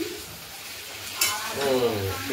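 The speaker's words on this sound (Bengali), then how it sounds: "একটা কড়াইতে আলুর দমের মশলা কষা চলছে, আর একটাতে মোটামুটি আলুর দম আমরা আলু ভাজতে শুরু করে দিয়েছি" Potatoes frying in oil in a kadai, a quiet steady sizzle with a sharper burst of stirring and crackle midway.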